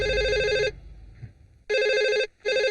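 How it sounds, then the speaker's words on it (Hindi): An old-style telephone bell rings loudly and close in two long electronic trilling bursts separated by a pause, then starts again, with a brief quiet gap between rings. "हे, फोन नहीं सुनाई दे रहा है क्या?"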